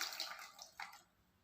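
Water pours into a pot already holding cocoa powder for a chocolate cake, splashing in a short bright burst that tails off into quiet.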